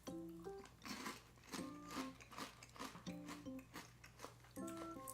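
Chippy garlic and vinegar flavored Filipino corn chips being eaten up close, with repeated crisp crunching bites in irregular bursts, quiet and close to the microphone.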